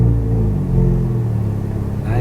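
A 2016 Chevrolet Camaro RS with a 2.0-litre four-cylinder engine pulling away from a stop, a steady low engine rumble heard from inside the cabin, with a voice speaking over it.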